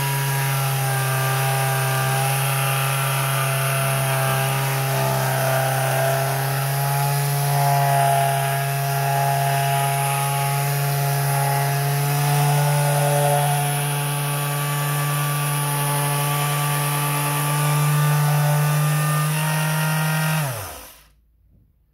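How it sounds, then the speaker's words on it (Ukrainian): An RZTK B3500 orbital sander works on wood with a loud, steady electric whine and buzzing hum that holds for about twenty seconds, then spins down and stops. "І вже трошки пробую зашліфовувати ось тут."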